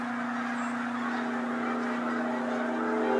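Canada geese honking amid a large flock of snow buntings, a steady, dense wash of bird calls that runs on without a break.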